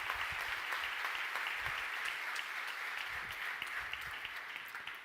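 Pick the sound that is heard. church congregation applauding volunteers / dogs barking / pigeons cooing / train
church congregation applauding volunteers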